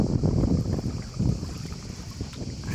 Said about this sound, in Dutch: Er staat een klein beetje wind,